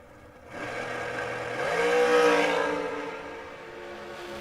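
Dragster engines at a drag race, a roar that rises sharply and sweeps upward in pitch as the car launches, then fades as it pulls away, heard from a distance.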